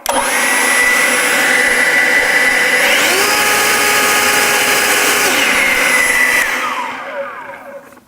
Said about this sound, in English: That turbo mode still moves an absolute ton of air.